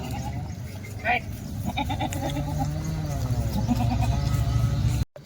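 Kathiawadi goats bleat in a livestock yard, several loud, close, wavering calls that overlap one another while someone talks over them.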